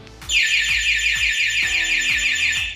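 An AutoRoute two-way anti-theft alarm on a Honda Wave125i LED motorcycle is set off by its remote, sounding a loud, continuous warbling electronic siren over a steady low pulsing beat, close by.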